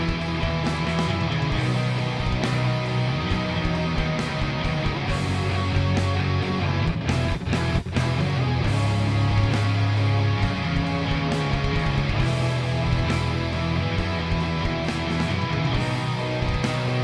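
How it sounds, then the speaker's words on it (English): Thick, distorted electric guitars play together in a dense, sustained wall of sound, steady and loud throughout. "That's now coming out on the left, and it sounds like this, with 3 other guitars being reamped."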